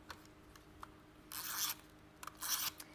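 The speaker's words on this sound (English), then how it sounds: "So we're going to put tape on here." Tape is pulled and pressed onto a paper gift bag in two short bursts of rasping, crinkly rubbing, close but quiet, separated by light handling taps.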